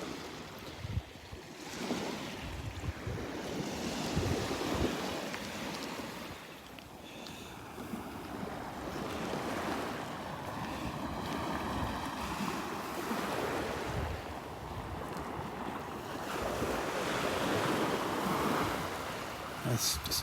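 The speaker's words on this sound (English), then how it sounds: "The little waves are stirring it up." Small waves washing onto the sandy beach at Delnor-Wiggins on a morning with the tide coming in, a continuous rolling surf wash with wind noise on the microphone, and a voice talking at times over it.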